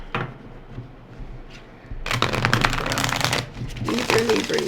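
Tarot cards are shuffled close up in a few brisk riffling bursts, quiet at first, then loud and rapid, with a short pause before a final flurry.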